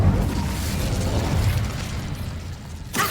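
An Incendio fire spell cast in Hogwarts Legacy gives off a sustained roaring, crackling whoosh that stays loud and broadband for about three seconds, easing slightly before a short sharp burst at the end.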